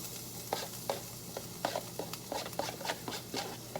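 Garlic frying in hot olive oil in a pan: a low sizzle broken by repeated scraping stirs in an uneven rhythm, close and moderately quiet.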